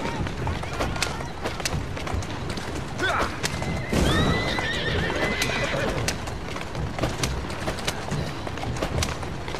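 Horse-drawn carriage in Assassin's Creed Syndicate, with steady clip-clop hooves, a horse neighing and whinnying partway through, and galloping rumble over busy game background noise.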